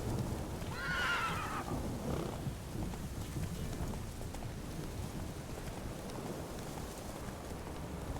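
Roach, a video game horse in the wetlands of Velen, lets out one whinny near the start, followed by soft clip-clopping hooves under a steady patter of rain.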